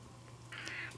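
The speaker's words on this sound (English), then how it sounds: "My cat is trying to join the video" A pet cat indoors lets out a single drawn-out meow in the second half, fairly close, over a low steady hum, with no talking.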